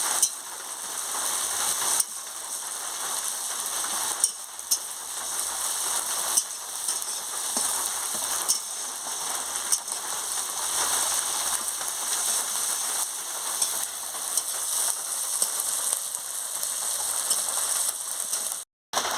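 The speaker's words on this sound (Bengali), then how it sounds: "বাটা রসুন বাটা এর সঙ্গে আমি দিয়ে দিচ্ছি এর সঙ্গে বেটে রেখেছিলাম দিয়ে দিচ্ছি দিয়ে ভালো করে আমি ভেজে নিচ্ছি" Garlic paste fries in a pan for a potato and pointed gourd fish curry, giving a steady, dense sizzle that continues throughout with faint crackles and no speech.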